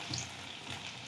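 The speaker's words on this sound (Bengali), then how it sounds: "একদম লো টু লো ফ্লেমে একটু খুন্তি দিয়ে এইভাবে একটু চেপটিয়ে দেবো, তাহলে ভিতরগুলা কিন্তু আরও ভালো ভাজা হয়ে যাবে" Egg and prawn fritters frying in oil over a very low flame while pressed flat with a spatula, giving a soft steady sizzle that runs throughout, fairly quiet and close, with no talking.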